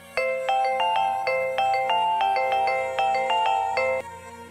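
A phone rings with an electronic melodic ringtone, a bright repeating tune of short tones that plays steadily for about four seconds before cutting off, clear and close with no voices.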